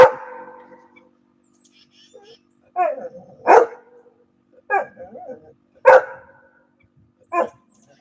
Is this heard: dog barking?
yes